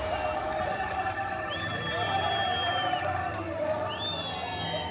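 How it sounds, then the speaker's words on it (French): A small crowd cheers the new rulers in Bukavu, with steady overlapping shouts, whoops and a few children's voices, fairly loud and continuous throughout. "Une petite foule acclame les nouveaux maîtres de la ville."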